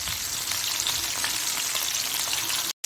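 Masala-coated mackerel fries in a pan with a dense, even crackling sizzle that runs steadily up close before cutting off abruptly at the end.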